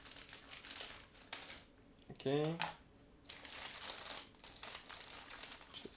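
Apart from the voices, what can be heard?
opening sealed plastic bag of model kit parts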